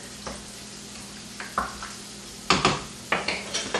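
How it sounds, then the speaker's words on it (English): A spoon stirring stew in a pot, scraping and clinking against the metal in a few scattered bursts over a faint simmering background, close by with no voices. "I'm going to go ahead and add this to the stew. Just a stir."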